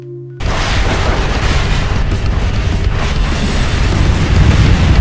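A nuke detonating in Fallout 76 near an underground camp shelter: after a brief near-silence, a sudden heavy boom gives way to a loud, sustained roaring rumble that builds slightly toward the end, with no voices.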